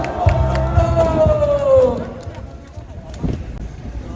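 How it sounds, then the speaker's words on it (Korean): A crowd at an anti-impeachment street rally in the station plaza in Gumi, South Korea, cheers and claps in the open air while a loud voice shouts over it, then the noise fades to scattered sounds before a brief second burst. "우리 다 함께 그가 느꼈던 애국의 마음을 느끼는 시간 되기 박수로 환영하겠습니다."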